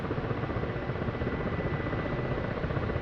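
Apache helicopter rotors in the DCS World flight game, a steady dense thudding whir of the twin rotors that holds level and continuous throughout, with no talk.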